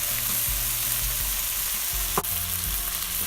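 Garlic and ginger sizzle in hot oil at the start of a curry for bunny chow, a steady close frying hiss with a few stirring scrapes and one sharp clink.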